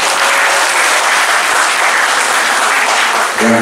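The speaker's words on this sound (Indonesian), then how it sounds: "Tepuk tangan untuk beliau." An audience at an Indonesian teachers' gathering applauds loudly, close and continuous, a thick burst of clapping that ends abruptly as a voice begins.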